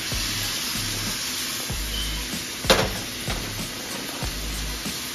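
A New York strip steak sears in a hot pan with a steady, close sizzling hiss and an occasional sharper crackle.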